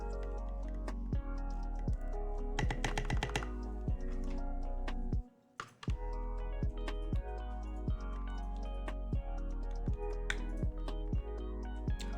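Lubed Gateron Yellow switches on a mechanical keyboard clack in a steady typing rhythm up close, with a short flurry of rapid keystrokes and a brief pause partway through.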